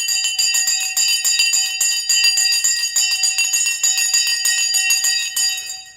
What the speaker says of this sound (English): The Sensei bell has gone